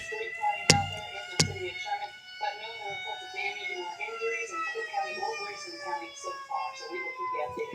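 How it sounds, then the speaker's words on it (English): Outdoor tornado warning sirens wail steadily in several layered tones during a November tornado event, holding a sustained rising and falling drone across the whole stretch, with two sharp knocks near the start and faint talk underneath. "Can't believe they're just now putting on the sirens."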